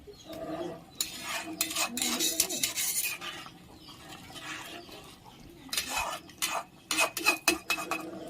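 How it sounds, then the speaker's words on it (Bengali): A metal spoon stirs and scrapes against a pot of chhana bora curry, with clinking, rubbing strokes that come in bursts and pause between them, close by and with no voices. "আস্তে আস্তে নাড়িয়ে নেবেন"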